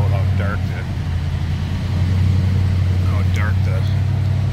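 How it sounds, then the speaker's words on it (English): A 1937 Ford sedan slantback engine runs at a steady high idle, a deep continuous hum close by, with a person speaking over it. "There, now it's starting to come down off the high idle."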